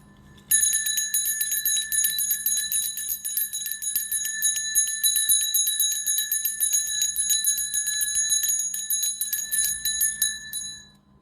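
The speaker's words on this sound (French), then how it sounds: "Je refais la cloche et vous souriez" A bell rings rapidly and continuously in a bright metallic trill that starts abruptly, holds for about ten seconds at a fairly loud level, then fades out, with a faint low hum underneath.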